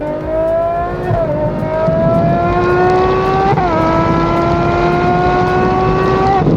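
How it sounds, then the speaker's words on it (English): Ferrari 812 Competizione V12 with a custom exhaust revs hard and loud, its piercing tone climbing steadily with two quick shift dips along the way, close and continuous with no talking. "This car is so much louder than it was, and the tone is so piercing."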